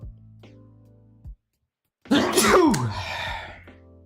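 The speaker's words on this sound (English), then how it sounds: "Sneezing coming." A single sharp sneeze bursts out after a moment of silence, loud and close with a falling vocal tail, preceded by faint tonal sounds.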